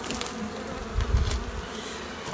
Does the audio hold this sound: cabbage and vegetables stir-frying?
no